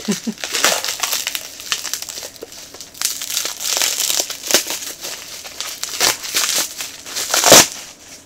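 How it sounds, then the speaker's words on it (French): A plastic-wrapped protector being unwrapped from a box, with close, busy crinkling and crumpling of plastic film in bursts, plus a few sharper crackles. "je vais le déballer le protecteur qui est bien protégé"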